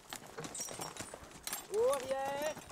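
A Comtois draught horse's hooves clop unevenly as it backs up outdoors in the Jura, while someone speaks commands to it over the steps.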